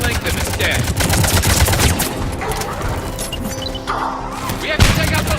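Loud, dense gunfire in the video game Mass Effect 3, rapid shots against Cerberus turrets blending into a continuous barrage with thumps, under occasional game speech.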